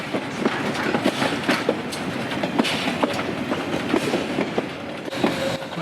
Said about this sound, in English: It's bringing a train from Le Crotoy into Noyelles.